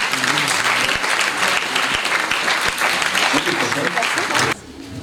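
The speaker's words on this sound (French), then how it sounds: "Je crois qu'on peut les applaudir" An audience at a ceremony honouring deserving athletes in Saint-Sever gives dense, sustained applause of many hands that suddenly drops off near the end, leaving a quieter room.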